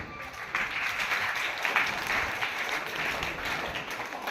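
Audience applause at a school entrance ceremony: steady, dense clapping from a crowd, holding at an even level for the whole stretch without pause.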